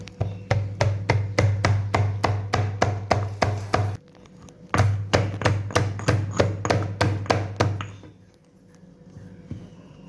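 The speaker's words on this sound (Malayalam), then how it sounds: "നമുക്ക് ഈ ഇടികല്ലിലിട്ട് ഇടിച്ചെടുക്കണം" Ginger and garlic pounded in a stone mortar: sharp, evenly spaced thuds in two quick runs of about a dozen strikes each, with a short pause between, close and loud with no talking.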